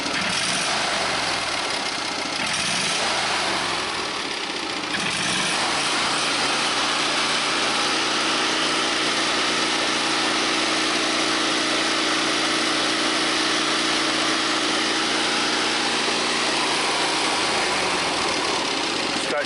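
A Kohler Command lawn mower engine runs after an ignition coil repair, changing pitch in the first few seconds as the throttle opens, then holding a loud, steady roar with a buzzing vibration throughout.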